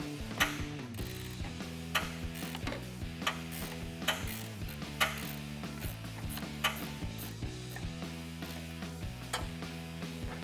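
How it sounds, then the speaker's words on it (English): A 10mm ratcheting wrench clicks repeatedly while loosening a headlight bolt on a 2014-2015 Chevrolet Silverado 1500, with close, rhythmic bursts of ratchet-pawl ticking separated by brief pauses and no talk. "Grab your 10mm ratcheting wrench and let's get this out."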